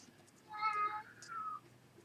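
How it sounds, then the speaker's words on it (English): A pet cat meows indoors in a quiet room, giving one drawn-out meow followed by a shorter second one, close and fairly soft. "And here's my cat."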